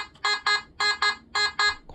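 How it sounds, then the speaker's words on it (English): A Nokta Makro MIDI Hoard metal detector sounding over a target in an air test gives loud, bright electronic beeps in quick pairs, repeated three times, close and alone. "if you're right on top of an object, the machine sounds like this"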